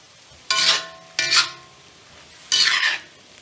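Broccoli and other vegetables are stirred in a cast iron pan in three scraping, sizzling strokes with short pauses between them. Close and clear, with no talking.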